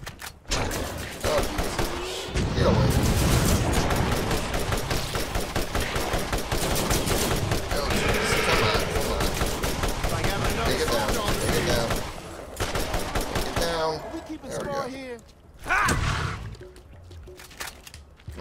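Dense, rapid shotgun blasts and gunfire from the Borderlands video game, loud and nearly continuous with heavy booms, dropping briefly near the end before another burst.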